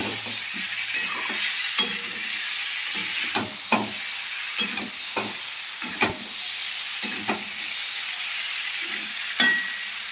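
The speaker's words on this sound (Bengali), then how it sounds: "মশলাটাকে আমি ভালো করে কষিয়ে নেব" A spiced masala with potato and cauliflower is stir-fried in a pan, a soft sizzle running under repeated spatula scrapes and clinks spaced every second or so, close and fairly loud, with no voices.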